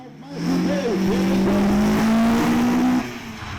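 Autocross kit cars racing head-to-head in a best-of-3 heat at a kit car show, engines revving loudly and rising in pitch as they accelerate, close and sustained, then easing off near the end.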